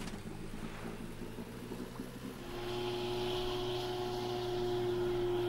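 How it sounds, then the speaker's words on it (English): Boat engine in a PC carp fishing game on the Wasserdamm lake, a low idle that catches and settles into a steady, louder running drone with a sustained tonal hum. "Let's turn the boat around, start the engine."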